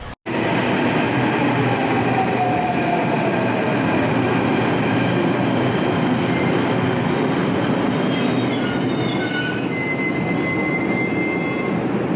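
Train at New Delhi railway station, a loud steady roar of rolling wagons with wheel squeal and rail noise continuing throughout, no voices.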